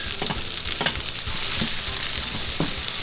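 Chopped onion sizzles in a skillet as the base for beef stroganoff: a steady, close frying hiss with a few sharp stirring scrapes near the start.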